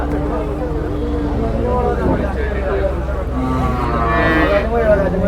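A bull lets out long, drawn-out moos, loud and close, with the lowing rising and swelling in pitch, while people talk in the background.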